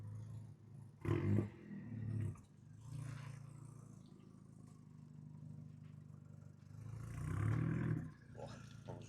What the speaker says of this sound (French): ça reste un bruit de GTI